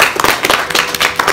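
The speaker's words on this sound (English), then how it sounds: "Applause, please." An audience breaks into a short, dense burst of clapping, many hands close together in a brisk, uneven patter that fills the moment loudly.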